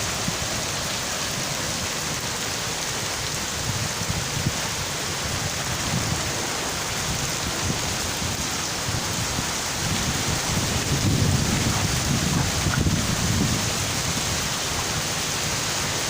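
Heavy rain pours steadily on surfaces during a storm with flooding all around, while deep thunder rumbles swell and roll in the low range, loudest near the end; no voices are heard.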